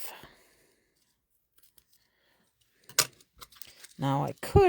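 Scissors snip through ribbon during a paper-crafting project, a couple of short crisp cuts close by, followed by a person speaking.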